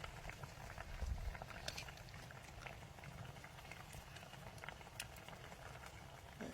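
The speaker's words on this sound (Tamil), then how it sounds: "வா இப்போ நல்லா போட்டு போட்டு கொதிச்சொன்று வருது" A pot, likely a clay pot, simmers over a wood-fired stove, giving a steady, quiet bubbling with faint crackles and pops throughout and no talk.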